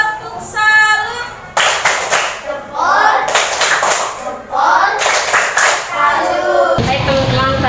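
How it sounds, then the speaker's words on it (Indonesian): A classroom of students performs a rhythmic clapping salute, sharp loud bursts of claps in patterned groups, with children's chanting voices in between and under the clapping. "Mari kita berikan tepuk salut untuk kelompok 4"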